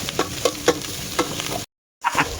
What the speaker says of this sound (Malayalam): ഉള്ളി അരിഞ്ഞത് ഇടുക നല്ല രീതിയിൽ മിക്സ് ചെയ്യുക